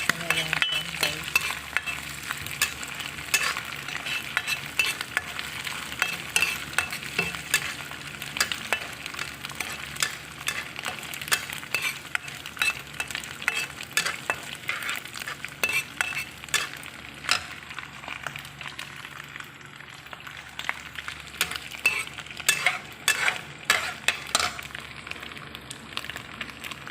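Ham frying in a pan for carbonara, a continuous crackling sizzle with frequent sharp pops and stirring scrapes, close and steady throughout with no talking.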